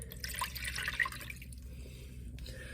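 Cleaning solution is poured into the rear reservoir of a Keurig coffee machine, giving a faint, close trickling and dripping of liquid for a few seconds.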